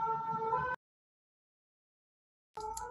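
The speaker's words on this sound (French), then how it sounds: "Pardon pour le bruit de l'ambulance." An ambulance siren passes outside, a wailing tone that cuts in, drops to silence for nearly two seconds and then returns, moderately loud and slightly distant.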